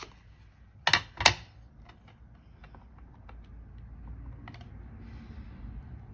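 A rubber stamp carrying a Happy Birthday sentiment from Spring Corners is pressed onto a birthday card, giving two quick, close, sharp taps followed by quiet room hum.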